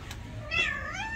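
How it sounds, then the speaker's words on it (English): A cat at a boutique hotel in Mykonos Town gives a single close, clear meow that rises and then falls away, with low ambient noise underneath. "Let's go meet our friends, the kitties."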